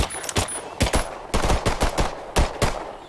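Rapid gunshots from the video game Earthfall, about a dozen sharp cracks in an irregular burst over a few seconds, loud and close with no talk.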